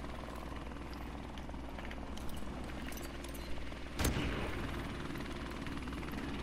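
A helicopter in a multiplayer shooter game gives a steady, droning rotor roar that fills the whole clip, with a sharp, gunshot-like crack near the middle.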